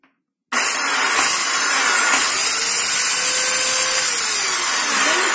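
A Carver RSE 2200M electric chainsaw motor kicks on and runs loud and steady, a continuous high whine with small shifts in pitch as it revs.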